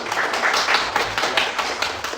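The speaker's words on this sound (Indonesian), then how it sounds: "Tepuk tangan kita semua." A classroom group claps together, the claps coming in uneven bursts and pulses, close and fairly loud, for about two seconds.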